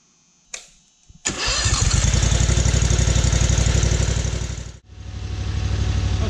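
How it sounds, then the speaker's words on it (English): An aluminum high-flow power steering pump on a test stand fires up with a sharp start and settles into a loud, steady mechanical whine and hum. The drive drops out briefly, then spins back up. "now that we have the aluminum pump on the test stand and fired up"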